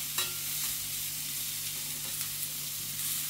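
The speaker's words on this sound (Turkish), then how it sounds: "Cızır cızır sesler de geliyor. Pişirmeye başladık." İnegöl köfte meatballs fry in a pan with a steady, dense sizzle and hiss that carries on without a break, close and even throughout, with no voices.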